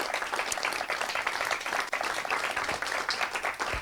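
An audience applauds an author at a book event, a dense, continuous round of clapping heard at moderate level from across the room.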